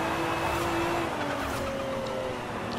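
An all-wheel-drive car powerslides in the racing game Forza Horizon 5, its engine holding a steady, loud whine over continuous tire hiss and scrub for about three seconds.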